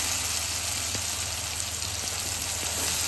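Ingredients for a teasel gourd chutney are stirred into hot oil and fried, giving a soft continuous sizzle with a few faint clicks of mixing, no voices.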